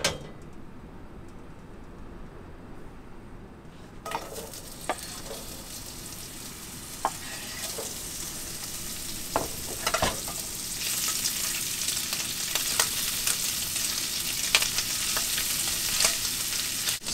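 Pre-cooked sausage crisping in a pan during beach cooking, a low steady sizzle that grows brighter and louder partway through, dotted with occasional sharp clicks and scrapes, nobody speaking.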